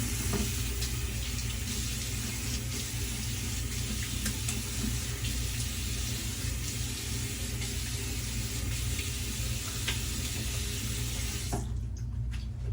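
Water runs steadily from a bathroom tap into a sink while the face is rinsed after a shave, a continuous close splashing stream that cuts off abruptly near the end.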